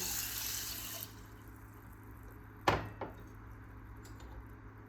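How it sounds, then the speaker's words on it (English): Water pouring into a pot holding buckwheat, a short soft rushing pour in the first second, then quiet, followed by a couple of sharp clunks of the pot. "2 cups of water"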